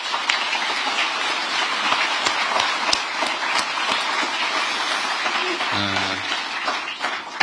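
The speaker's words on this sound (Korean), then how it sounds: "우리 동료들을 위해서 박수 한번 부탁드립니다." Steady applause from senior government officials gathered in a hall, a continuous dense clatter of many hands that fills the whole stretch, with a brief voice near the end.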